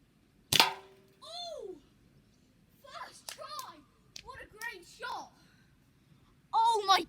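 One sharp, abrupt crack of an air rifle shot at an egg is heard close by, followed by quiet pauses broken by a voice speaking.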